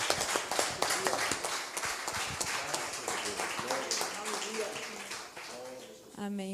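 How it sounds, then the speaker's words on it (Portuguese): Church congregation applauding during a worship service, clapping mixed with voices and a lively crowd murmur, with music or singing rising toward the end. "Vamos dar um aplauso forte ao nosso Deus?"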